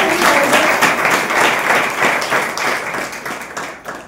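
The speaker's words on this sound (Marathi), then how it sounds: "सुनांसाठी एकदा जोरदार टाळ्या" A temple audience during a Dashalakshan festival program bursts into loud, sustained applause, dense clapping filling the hall for several seconds before tapering slightly.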